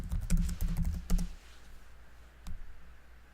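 A computer keyboard clatters under quick fingers as a password goes in, a close burst of rapid key clicks, then a pause and one last tap.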